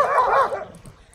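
Sled dogs at a dogsledding lodge on a frozen lake give a short, loud burst of barking and yelping up close, fading quickly after about half a second.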